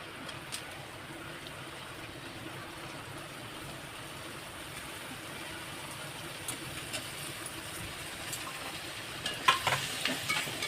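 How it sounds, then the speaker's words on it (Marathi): Tomatoes fry with onions in a pan for chicken biryani, giving a steady, fairly quiet sizzle and hiss with a few stirring scrapes near the end. "या कांद्यामध्ये मी टमाटर घालून घेते"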